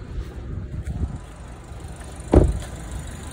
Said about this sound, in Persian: در رو ببندم